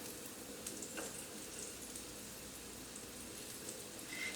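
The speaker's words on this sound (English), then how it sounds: "Put our first piece of salmon in there." A piece of salmon fries in a hot pan with a faint, steady sizzle and crackle, soft and continuous, with a few tiny pops and no talking.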